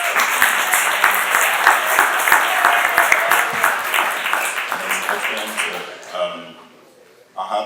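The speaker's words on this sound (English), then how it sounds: "Can we give a round of applause?" Applause rises at a hip hop conference youth panel, a sustained wash of clapping with a few sharp individual claps, fading out near the end as a voice begins to talk.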